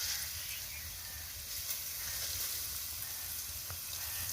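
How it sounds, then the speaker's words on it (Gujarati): Grated carrots sizzling in hot ghee in a pan, a steady close crackling hiss that runs unbroken throughout, with faint scraping underneath. "ઘી આપણું ગરમ થઈ જાય પછી આપણે જે આ ગાજર ખમણેલા છે તે આપણે એમાં ઉમેરવાના છે"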